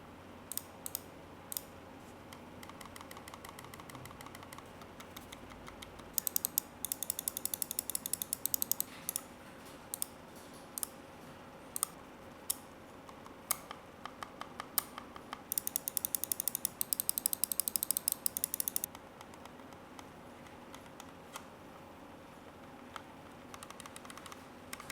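Buttons of a Rexus Daxa Air 2 wireless gaming mouse clicked close up, crisp sharp clicks in single taps and fast rattling bursts, with no talk over them.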